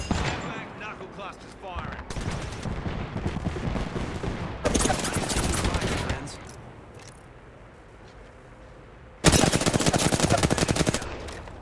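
Gunfire in the shooter game Apex Legends, several loud bursts of rapid automatic fire separated by brief lulls, close and dominant throughout.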